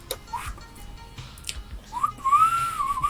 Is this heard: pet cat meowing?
no